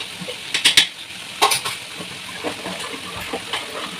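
Biryani masala of onion, tomato and ginger is fried in a pan, with a soft sizzle under scraping and clinking as a spoon stirs. The stirring comes in short bursts close by.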